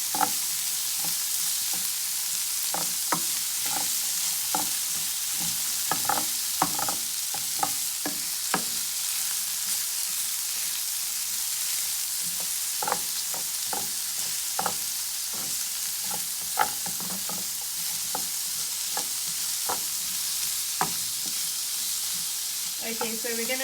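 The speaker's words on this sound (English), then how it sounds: "we're going to keep mixing our peppers in. We'll let it cook on a high flame" Peppers for shakshouka fry on a high flame while being stirred, a continuous loud sizzle broken by sharp scraping clicks of the utensil at irregular intervals, close up, with no talk.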